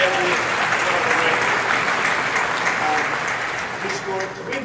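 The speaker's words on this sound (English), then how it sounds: "Let's applaud Pelé." An audience applauding the footballer Pelé, sustained warm clapping from a large crowd that holds steady and tapers slightly near the end.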